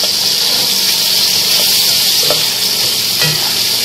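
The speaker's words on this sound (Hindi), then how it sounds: "अब इन सब चीज़ों को हम अपनी चिकन के साथ अच्छे से मिक्स कर देंगे।" Chicken is stirred in a pot with whole spices and salt for khada masala chicken, giving a steady, close sizzle with soft scraping of the mix and no talk.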